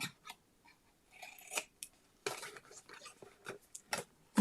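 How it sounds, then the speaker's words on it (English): Scissors snip through a paper tab for a Halloween craft, making a series of close, crisp cuts in short bursts with quiet pauses between them. "And then you want to cut up to that score line and then angle cut this tab."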